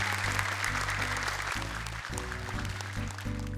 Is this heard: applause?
yes